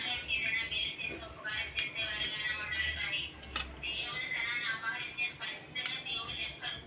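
A spoon scrapes and clinks softly while scooping seeds out of hot bitter gourds being prepared for stuffing, with a voice talking over it.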